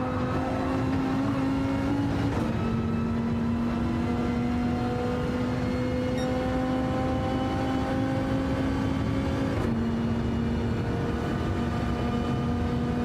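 Dodge Viper race car engine in the Gran Turismo 7 video game at Daytona, a loud, sustained droning tone that shifts pitch abruptly with gear changes, running continuously without talk.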